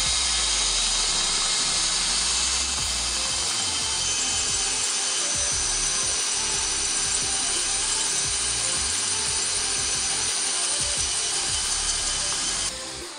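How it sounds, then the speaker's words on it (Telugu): An iBell electric screwdriver set to drill mode bores into a cement block with a close, continuous high whir that holds steady for the whole stretch. "సో ఇక్కడ మనకి ఎటువంటి ప్రెజర్ లేకుండా కట్ చేస్తే ఇంత లోతు వరకు అయితే డ్రిల్ అయిందనమాట."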